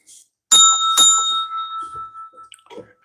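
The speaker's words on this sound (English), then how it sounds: "That gets a bell." Bell rung twice in a lure-making workshop, two bright metallic dings close together with a long shimmering ring that slowly fades, followed by faint small clatters and a brief soft voice.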